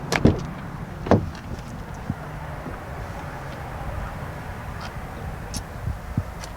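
A 2021 Ford Bronco Sport door unlocks with a handle sensor and swings open: a sharp latch clunk, then a second solid thump about a second later, followed by quiet outdoor ambience with faint distant clicks.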